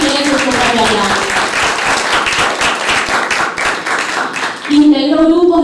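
A theatre audience at a puppetry event claps loudly and densely for several seconds; the applause fades as a voice begins speaking near the end.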